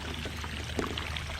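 Water runs steadily from a hose or tap on a small farm where chickens are kept, a quiet, continuous pouring and trickling wash with no voices.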